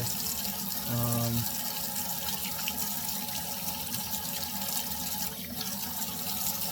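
Cold process soap bar with cocoa butter lathered under running tap water, a steady close rush of water at a sink with a brief tonal squeak near the start.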